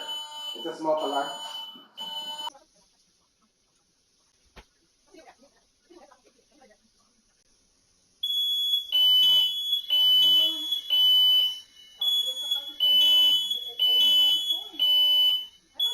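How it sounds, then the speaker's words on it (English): A smoke alarm beeps in repeated loud, shrill bursts, starting briefly at first and then sounding steadily after a pause, with a person talking between. "It's a smoke alarm."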